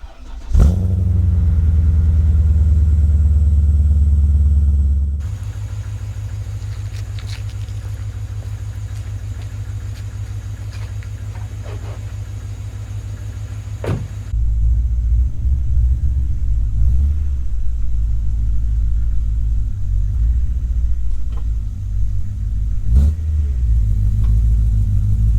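BMW E39 M5 with a Supersprint exhaust driving on the road, a loud deep engine rumble that shifts as it accelerates, eases off and settles, with revs rising and falling across the drive.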